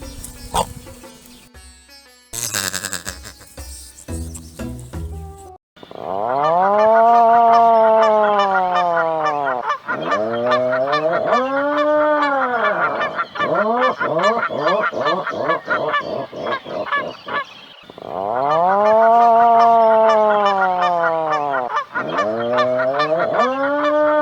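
Geese honking loudly and repeatedly at close range, overlapping calls in rapid bursts that continue for most of the stretch after a brief section of other sounds at the start.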